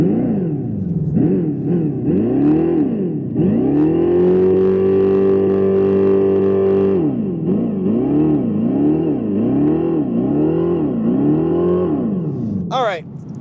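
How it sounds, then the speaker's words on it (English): Electric Dodge Charger Daytona in sport mode, its artificial engine sound revving loud and close: rhythmic rising and falling surges, one long held high rev in the middle, then more quick revs. "let me go ahead and go into the sport mode, and we'll give her some revs"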